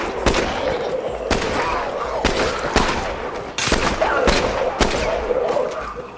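Shotgun blasts ring out in State of Decay 2, a string of loud, sharp reports spaced roughly a second apart over a noisy, rumbling game background.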